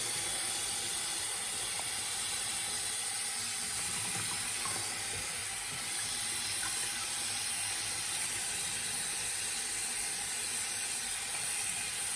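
Tap water runs steadily into a sink while a plastic container is rinsed under it, a continuous hissing wash with no voices.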